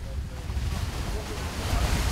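Rough sea waves and gusting wind around an island village harbour, where a resident's boat has been swamped; a steady, loud broadband roar with constant low rumble and buffeting wind noise throughout.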